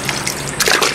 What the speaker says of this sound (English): basically, I'm just putting the hides in now